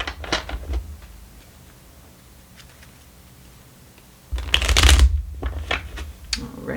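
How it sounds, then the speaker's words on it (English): Angel cards being shuffled and cut, bursts of riffling and fluttering card noise at the start and again louder near the end, with quieter handling in between. "let me cut the cards and see what we get"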